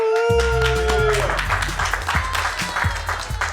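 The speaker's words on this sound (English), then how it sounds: "That deserves a hand clap" On a casual talk podcast, several people break into applause and clapping at close range, mixed with whoops and cheering voices, while a musical jingle plays at the start.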